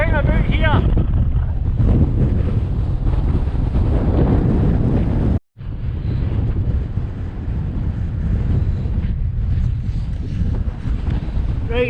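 Strong wind buffets the microphone on a cold hill summit in the Luss Hills, a loud continuous roar with one brief dropout midway, with no other sounds standing out.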